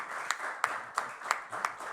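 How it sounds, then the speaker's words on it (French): Faint, rhythmic clapping at a church gathering: evenly spaced claps about three per second, sounding like a small group clapping in time rather than a full ovation. "Applaudissements pour Pascal, s'il vous plaît."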